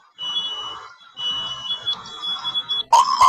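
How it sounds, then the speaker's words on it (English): A fire alarm sounds from a played clip as a loud, shrill, pulsing electronic tone that cuts out briefly, then resumes and ends in a harsher, louder blast. "her fire alarm erupts."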